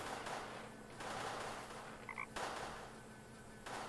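Croaking frog in the point-and-click adventure game Deponia, a few short electronic ribbits over steady background game noise, fairly faint and without speech.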